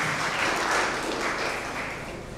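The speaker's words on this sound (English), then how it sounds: "You clap for me" Students and teachers applauding at a school quiz competition, a steady wash of clapping from a crowd indoors that holds at a fairly even level throughout, with no voices over it.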